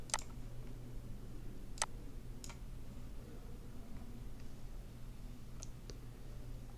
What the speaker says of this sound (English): Select your picture and click open.